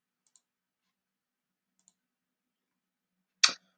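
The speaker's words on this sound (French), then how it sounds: "il faudra cliquer ensuite sur Publier." A computer mouse clicks to publish an article in WordPress: two tiny faint ticks, then one sharp, louder click near the end, with silence between.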